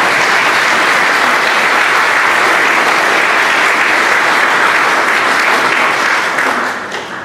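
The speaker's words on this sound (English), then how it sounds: "the welcome round of applause, so we'll give you one all to yourself" A church congregation gives a welcome round of applause during a Sunday worship service, dense sustained clapping from many hands filling the room, loud and steady before tapering off at the end.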